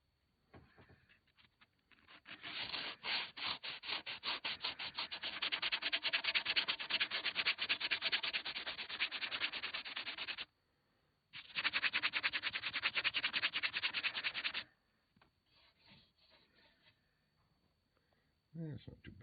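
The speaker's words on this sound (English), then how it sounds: "I'm going to give it a little bit of a sanding and see what she looks like" Hand sanding an old wooden walking stick: steady rapid scratchy rubbing strokes, close and fairly loud, a brief pause, then another burst of sanding, with quiet sounds around it.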